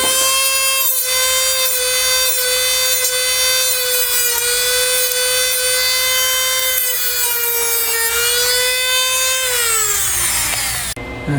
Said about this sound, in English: I'll try and clean them both up, clean up that metal with a Dremel tool.